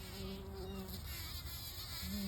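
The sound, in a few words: honeybee buzzing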